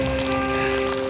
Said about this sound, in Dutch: Het regent, heel even.